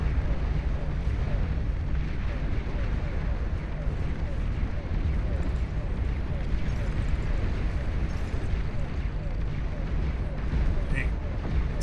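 Bombardier explosions in a video game rumble in a continuous, dense barrage of booms and crackling blasts, loud and unbroken throughout.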